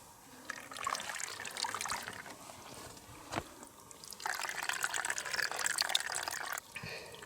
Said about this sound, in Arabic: من النبعة هاي يظل يكب مية لآخر الطريق